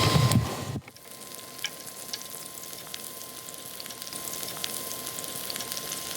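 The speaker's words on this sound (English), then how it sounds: "we'll fry up the vegetables on the Ridge Monkey" Peppers fry in a little oil in a non-stick Ridge Monkey pan, a close crackling sizzle with scattered pops that follows a brief loud clatter at the start.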